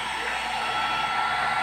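A hair dryer blows continuously with a steady, airy whoosh and motor hum, close and unchanging throughout.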